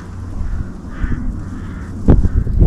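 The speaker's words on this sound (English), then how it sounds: "Got a load of high crows coming straight at me" Crows fly high overhead, with faint cawing calls in the middle of the clip, set against heavy low wind rumble and a few close thumps of handling noise near a hidden hunter.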